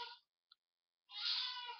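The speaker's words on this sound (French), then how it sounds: "Grisette, c'est mon chat" A pet cat named Grisette meows twice, a short faint chirp and then a longer, clearer drawn-out meow, close by in a quiet room.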